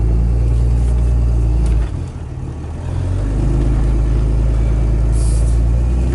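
A 24V Cummins diesel truck cruises along with a heavy, steady low rumble close by, dipping briefly as the engine eases off, then settling back into its deep drone; no voices.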